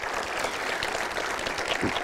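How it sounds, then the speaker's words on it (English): Conference audience at VoxxedDays Zürich applauding, a dense, loud burst of many hands clapping close together throughout. "please give them all a big round of applause"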